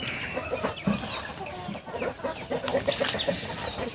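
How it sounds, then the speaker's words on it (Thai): Three-to-four-month-old native village chickens cluck and chirp close by in a busy flock, with scattered squawks and peeps over a steady background murmur and no talking. "ไก่ใหญ่ครับสามสี่เดือนแล้วครับพี่น้องครับ"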